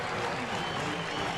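A stadium crowd of mostly Alabama football fans cheers after a game against Vanderbilt, a broad, steady roar of distant voices and clapping filling the air.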